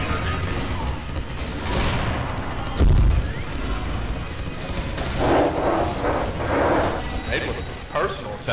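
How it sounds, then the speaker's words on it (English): Bursts of explosions and booming blasts in Team Fortress 2, one heavy low thump and several crackling bursts later, with a voice talking over them. "Can we reduce the explosion effects that Bomberz V2 does?"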